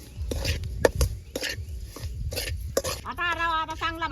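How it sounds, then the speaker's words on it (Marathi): Semolina roasting in homemade ghee in a kadhai: a spoon scrapes and clinks against the metal pan in uneven strokes, close by, ending under a brief tonal voice or music. "आता रवा आता चांगला भाजून घेऊ"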